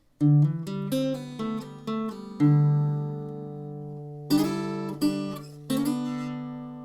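An acoustic guitar plays the second half of the riff from a song, alone and close, with a series of plucked, ringing notes, a brief pause, then three more bright accented strums that let ring.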